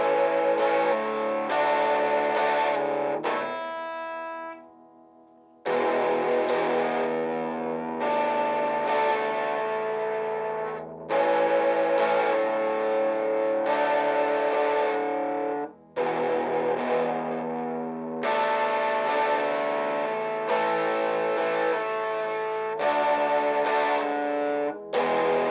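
A heavily distorted electric guitar plays sustained chords and riffs with a thick, buzzing tone, loud and close, broken by a couple of brief silent gaps.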